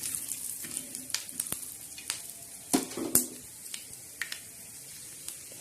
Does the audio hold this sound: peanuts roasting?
yes